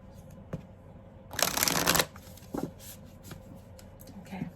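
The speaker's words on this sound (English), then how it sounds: "I cut the deck wrong." A deck of cards shuffled once in a loud riffle burst lasting under a second, followed by softer handling clicks and taps nearby.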